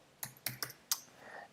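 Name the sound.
pressing computer keyboard keys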